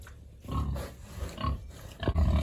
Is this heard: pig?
yes